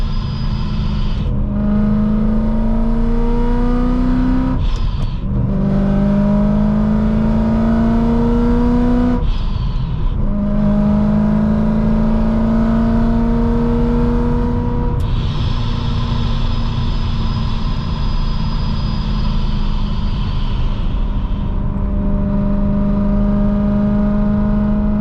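A Procharger-supercharged BMW M3 engine, heard from the driver's seat, revs up loudly and repeatedly after a downshift. Each pull climbs steadily in pitch, with brief drops at the gear changes, then settles into a sustained high drone.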